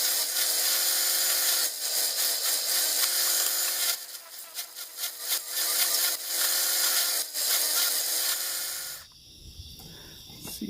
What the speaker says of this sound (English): I loosened the chuck and dropped the drill bit down where I'm just barely biting on the end of the drill bit